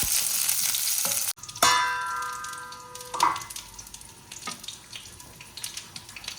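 Eggplant pieces dropped into hot oil in a pan for ennai kathirikai, a loud hiss that cuts off suddenly, then a burst of bubbling sizzle that settles into softer crackling with a few stirring clinks, no talking.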